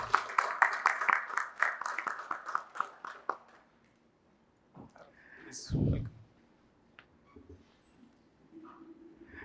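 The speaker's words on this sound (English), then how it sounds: "So please give a huge round of applause and welcome Mr. Anirudh Gupta to the panel." An audience at an entrepreneurs' conference panel gives a short burst of brisk clapping that fades after a few seconds, followed by quiet stirring, a few clicks and a brief voice.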